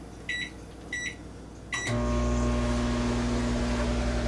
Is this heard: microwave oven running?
yes